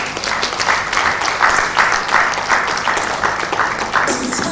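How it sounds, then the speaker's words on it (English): Sustained applause from a conference audience at a Nigerian midwifery gathering, a dense even wash of many hands clapping steadily for several seconds, fairly loud and close. "Please give yourselves a round of applause."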